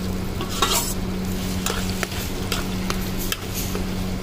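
Coarsely ground mix stirred into cow's desi ghee in a brass kadhai for breakfast ladoos, with steady frying sizzle and repeated scraping strokes of a spoon, close and continuous, with no talk.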